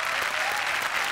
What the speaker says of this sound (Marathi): टाळ्यांनी आपण स्वागत करूयात या मंचावरती सुप्रिया पाठारे यांचं.